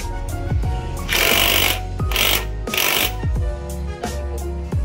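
A power tool tightens the nuts on a Honda PCX 150 motorcycle in short loud bursts of whirring and rattling, about three or four separated by quieter clicks and handling noise.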